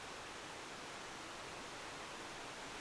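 A steady, faint rushing hiss of a video game waterfall placed at the Far Harbor settlement, continuous and even with no other sounds.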